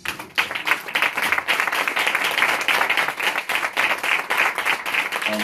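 A church congregation at a Haitian Church of God service applauds its pastor and his wife, a lively, uneven burst of many hands clapping nearby, with individual claps standing out and sustained throughout.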